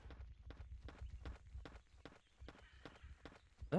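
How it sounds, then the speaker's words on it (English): Footsteps in Jurassic Park: Trespasser, a steady run of thuddy steps about three per second, close and fairly loud, with faint background ambience and a brief louder sound at the very end. "you just hear your footsteps and breathing"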